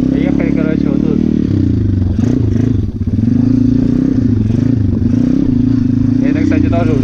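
A pit bike ridden off-road, its engine droning loud and close at a steady pitch with rattling and clatter over rough ground.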